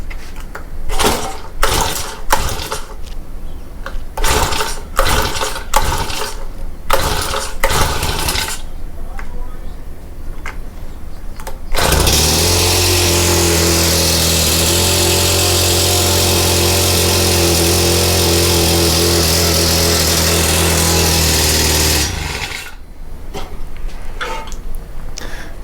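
A Honda FG100 tiller engine with stuck tines runs loud and steady for about ten seconds, a harsh droning roar with a strained, grinding edge, set between stretches of intermittent knocking and handling noise.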